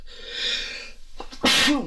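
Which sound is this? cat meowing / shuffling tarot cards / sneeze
sneeze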